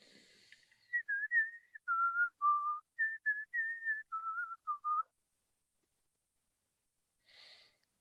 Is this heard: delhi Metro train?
no